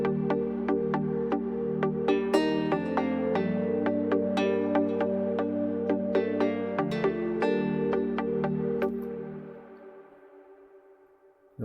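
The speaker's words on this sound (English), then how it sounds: "It's a nylon guitar," A nylon-string guitar patch from the Nexus plugin plays a plucked rhythmic figure in an Afro House arrangement, with crisp note attacks over a sustained low tone, fading out toward the end.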